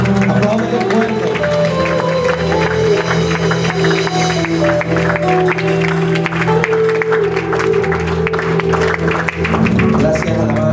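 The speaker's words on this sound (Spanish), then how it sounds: "Dios con este fuerte aplauso. Apláudele fuerte." Loud, sustained applause from a church congregation during a Sunday worship service, a dense continuous wash of clapping that runs the whole stretch, blended with steady music and crowd noise.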